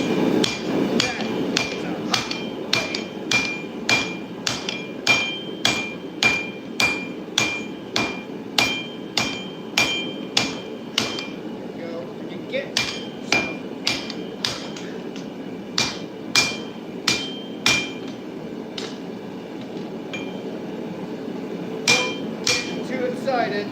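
Hammer blows ring out as a Nordic khopesh blade is forged, a steady run of sharp, loud metallic strikes in quick rhythm with brief pauses, close and clear.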